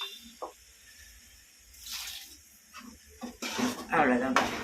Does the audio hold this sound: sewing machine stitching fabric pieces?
no